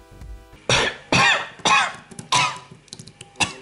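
A voice imitates a thick, wet, phlegmy cough, four loud hacking bursts in quick succession followed by a few smaller rasping sounds, all close and alone.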